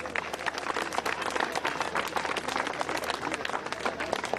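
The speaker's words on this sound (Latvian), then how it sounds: "Lūk tā, aplausi vēlreiz." A crowd applauds at a cycling race awards ceremony, dense clapping rolling on at an even level throughout, loud and close, with no voices standing out.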